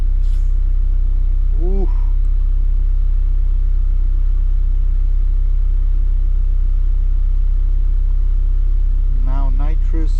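A Honda Civic fitted with a nitrous (NOS) system idles with a loud, steady low rumble throughout, while a voice briefly exclaims near the start and chatter rises near the end.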